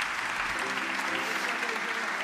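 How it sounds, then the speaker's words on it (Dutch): Steady audience applause at a Dutch live community show, a dense continuous patter of many hands clapping at even loudness throughout, with some faint tonal music underneath. "En jullie krijgen ongetwijfeld een geweldig applaus."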